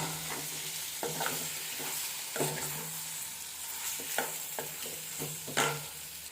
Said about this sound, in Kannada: ಈಗ ನಾನು ಆಲ್ರೆಡಿ ಬಾಯ್ಲ್ ಮಾಡಿ ಕಟ್ ಮಾಡಿದಂಥ ಎಗ್ನ ಇದಕ್ಕೆ ಸೇರಿಸ್ತಾ ಇದ್ದೀನಿ. ಈಗ ಇದನ್ನು ಮಿಕ್ಸ್ ಮಾಡಿ.